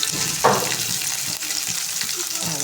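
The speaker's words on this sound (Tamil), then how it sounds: "வெங்காயம் கருவேப்பிலை ரெண்டும் சேர்த்தே போட்டுடுறேன்" Onion and curry leaves dropped into hot oil, a steady bright sizzle with a sharper splash of frying as they hit the pan, continuing evenly throughout.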